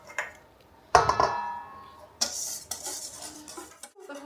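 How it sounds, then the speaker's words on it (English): Wet ingredients being mixed into dry ingredients for a grapefruit cake, with a spoon scraping and clinking against a bowl in a few close bursts, stronger stirring noise in the second half, no talking. "Now, you just mix this into the dry ingredients."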